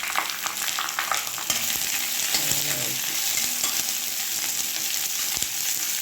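Onion, tomato and green chili sautéing in a pan, a steady close sizzle and crackle of frying with occasional scraping stir strokes and clinks of a spoon, fairly quiet and without speech.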